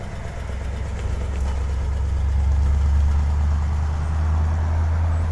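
A 1957 Ford Thunderbird engine idles with a deep, steady rumbling growl, close and continuous, nothing else over it.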